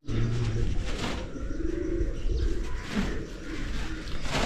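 Racing pigeons at a Punjab pigeon-flying tournament coo and call close by, a loud, continuous bird chorus with a few sharper notes.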